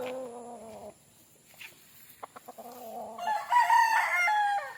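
A Boston Roundhead gamefowl rooster crows nearby, a drawn-out call followed by a second crow, with a few short clucks and faint clicks in between; no speech.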